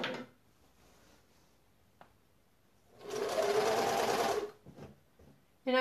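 Sewing machine stitching a quilt border, running in one loud, rapid burst of about a second and a half after a quiet stretch with a single click, then a few brief stutters and a restart at the end.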